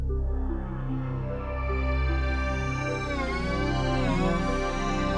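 A Groove Synthesis 3rd Wave wavetable synthesizer plays a sustained, harmonically rich pad-like tone. Its timbre shifts and sweeps slowly over a few seconds, with a steady low end and no talking.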